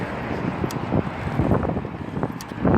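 Wind buffeting a microphone outdoors during a video of an X-Maxx RC truck, a loud, continuous rumbling roar with gusty swells and no talk.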